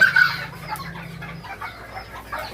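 Bantam chickens, three hens and a cock, cluck softly nearby, a few short throaty calls over quiet outdoor background.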